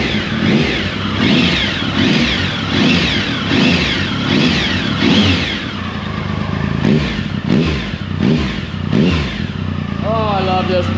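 Triumph 1050 motorcycle engine revving repeatedly right after a cold start, loud and close, with rhythmic rising and falling revs, a mechanical clatter, and a faint whine near the end.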